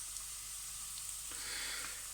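Spices and tamarind paste sizzle steadily in a hot pan while prawn xacuti is being cooked, a soft, continuous frying hiss that swells slightly toward the end, with no voices.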